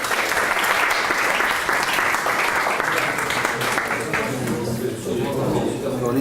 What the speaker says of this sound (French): applaudir cette belle présentation